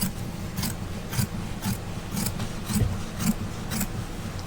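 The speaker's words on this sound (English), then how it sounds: "You do want to trim as close as you possibly can." Scissors trimming fabric close to the stitching on a wire frame bag, a steady series of about eight quiet, evenly spaced snips close up.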